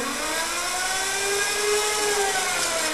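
A 3 HP DC motor running under PWM MOSFET control, a steady whirring drone with a high electronic whine, constant and fairly loud for a few seconds.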